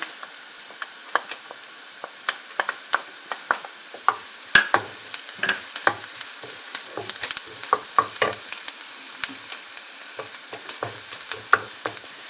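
Ginger sizzles and fries in a pan while being stirred, with scattered sharp crackles and spatula scrapes over a low steady hiss, close and fairly quiet, no voices.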